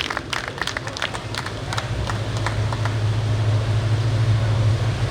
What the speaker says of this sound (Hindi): और एक बार सभी जैन साहब के लिए जोरदार तालियों से स्वागत करेंगे।